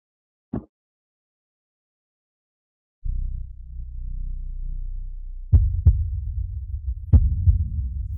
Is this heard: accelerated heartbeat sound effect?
yes